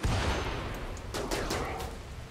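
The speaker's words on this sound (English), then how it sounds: "They're actually shooting each other." Gunfire in the colony game RimWorld, a steady rumble of battle with a cluster of sharp, fairly distant shots popping in quick succession partway through.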